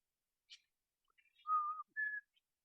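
A person whistles a brief tune alone, a few short clear notes with gaps, quiet and close, ending with two sustained tones.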